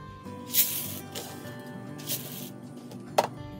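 Uncooked rice shaken inside a plastic bottle shaker, giving a few short rattling swishes in separate bursts against a quiet background, with one sharper hit near the end.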